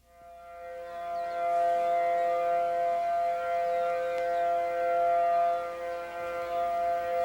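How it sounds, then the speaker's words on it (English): Civil defense sirens on Kauai wail before Hurricane Iniki in September 1992, a loud sustained tonal howl rising in from quiet and holding steady with slight swells, no voices. "The island awoke to the wail of civil defense sirens at just after 5 on the morning of September 11th."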